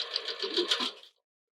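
A sewing machine runs a short burst of rapid stitching along a sports-bra seam, a back tack at the end, then stops abruptly, close and fairly loud with no talk.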